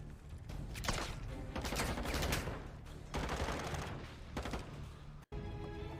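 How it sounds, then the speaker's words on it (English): Call of Duty Modern Warfare 2 gunfire: dense, rapid shots rattle continuously, bursts of automatic fire overlapping with loud booming, pausing only briefly near the end before resuming. "Here's some of that music and some of the gunshots."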